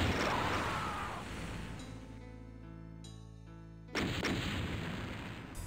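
A deep, broad explosion rumble in a video game, loud at first, then fading into a sustained tonal drone before a second burst of dense noise returns abruptly near the end.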